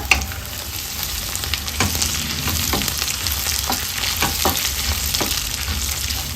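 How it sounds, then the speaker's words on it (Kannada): Green chillies, garlic, cinnamon, cloves, cardamom, peppercorns and cashews fry in hot oil for an egg curry masala. A close, continuous sizzle is broken by intermittent stirring scrapes, with no voices. "ಒಂದು 15 ಗೋಡಂಬಿಯನ್ನು ಸೇರಿಸ್ಕೊಂಡು ಫ್ರೈ ಮಾಡ್ಕೊಳ್ಳೋಣ"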